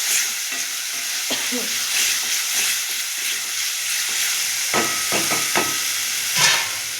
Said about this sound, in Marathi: त्यात घालून घेऊया आता पूर्ण हलवून घेऊया पाच मिनटं